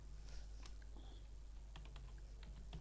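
Quiet keystrokes tap on a computer keyboard in short irregular bursts of clicks, close by but low in level, with no speech.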